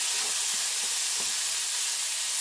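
Bacon and softened peaches are stirred together in a frying pan with browned pork loin bits: a steady, close sizzle and hiss, with a few soft scraping strokes of the spoon and no talking.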